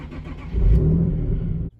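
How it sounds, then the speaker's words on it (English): A Nissan 370Z engine starts up close by, with a short crank that catches into a rising rev. It then settles into a steady idle for a moment before cutting off abruptly. "So I'm going to just start up my car to make sure it's still going."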